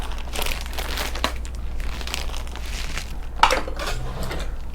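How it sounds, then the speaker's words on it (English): Replacement brake handle packaging for a Stihl MS170 chainsaw being opened by hand, close crinkling and rustling of plastic with a few light clicks, no talking. "Let's open up our part here."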